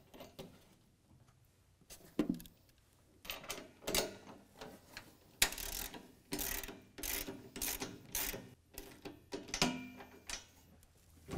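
Metal mounting hardware being snugged down on a Rugged Ridge JT Sport Rack bed rack bracket on a Jeep Gladiator, with bursts of ratcheting clicks separated by short pauses, close and fairly loud, no talking.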